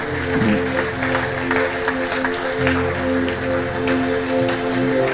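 A church congregation at a priests' convocation keeps clapping in a dense, continuous roar of hands, loud and steady, while a low sustained musical drone hums underneath.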